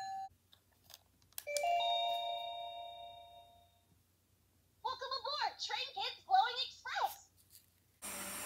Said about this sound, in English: these buttons make their appropriate sounds when pressed. Horn, bell, and the most annoying announcement of all time.